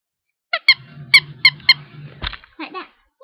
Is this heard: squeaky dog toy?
yes